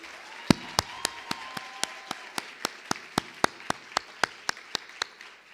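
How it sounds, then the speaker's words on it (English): Hands clap in a steady, evenly spaced rhythm of about twenty sharp, close claps at a public dialogue event, each crisp and distinct over a faint background murmur. "So can we please clap hands for ourselves for being here?"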